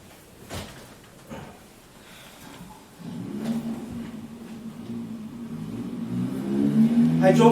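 A car engine sound effect in a stage performance, starting after a few faint knocks and swelling into a steady, rising revving drone as the car drives fast, growing louder toward the end.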